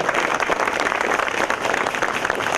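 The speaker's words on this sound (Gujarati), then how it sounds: "જોરદાર તાળીઓથી એમને વધાવો" Audience at a religious gathering in Bahucharaji breaking into applause, a dense, loud wash of clapping that stays steady throughout.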